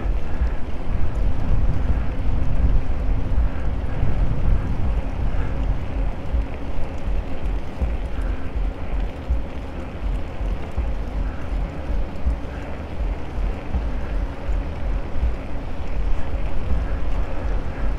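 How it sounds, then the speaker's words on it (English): Strong wind buffeting a microphone outdoors, a constant low rumbling roar that gusts slightly louder at times, with no voices. "quite windy, so it'd be good to see how this microphone works out in this wind"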